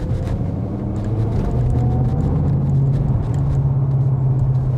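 A Ford Mustang GT with a 5-litre V8 and manual gearbox pulling in third gear from low revs, a deep close engine rumble that steadily rises in pitch as it accelerates.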